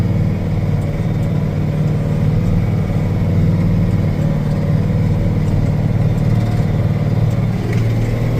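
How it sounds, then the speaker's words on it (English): A tractor engine running steadily while discing snow-covered ground, a loud, continuous low drone heard close by throughout with no talking. "tractor's running, and I decided to do some snow tillage."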